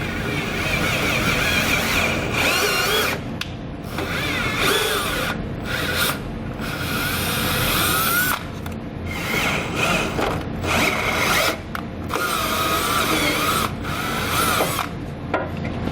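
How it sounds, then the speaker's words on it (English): Power drill driving self-tapping screws into a vehicle frame while mounting a Firestone Air Command heavy-duty air compressor, a loud close whirring in repeated runs broken by short pauses and a few rising pitch sweeps. "I'm going to come back with my self-tapper. I'm going to make sure that it threads into the frame in each one of the holes."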